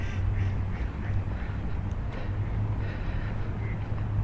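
Ducks quack repeatedly near a memorial in Washington, D.C., moderately close, over constant outdoor wind or traffic rumble.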